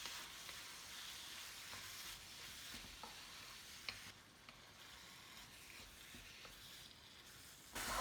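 Ground beef, beans and salsa sizzle steadily in a pan, close and constant, while a spoon stirs the mixture with soft scraping and occasional light taps against the pan, and no one speaks.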